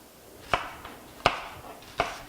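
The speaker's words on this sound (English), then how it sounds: "I'm going to start by chopping those things up" Three sharp knife chops through an onion land on a cutting board, spaced about three-quarters of a second apart, close and fairly loud against a quiet room.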